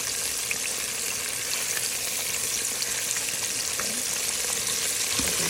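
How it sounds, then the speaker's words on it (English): Saltwater fish frying in a deep fryer gives a steady, dense sizzle with fine crackling and bubbling that holds at an even level throughout, with no voices. "When your fish is frying"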